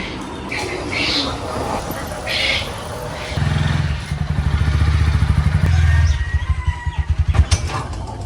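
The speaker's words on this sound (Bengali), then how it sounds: "বাইকটা বের করি" A motorcycle engine starts up partway through and runs in a throbbing, close rumble, with clatter and talk before it.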